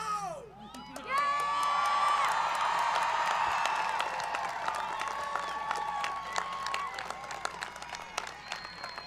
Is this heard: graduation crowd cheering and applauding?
yes